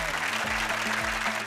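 Studio audience on a televised singing competition claps steadily and fairly loudly, dense applause over a low sustained musical accompaniment.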